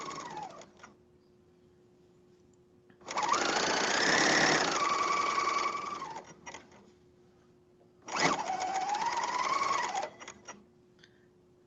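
A sewing machine stitches a pajama seam in two steady runs of a few seconds each, with quiet pauses between them and a faint constant hum underneath.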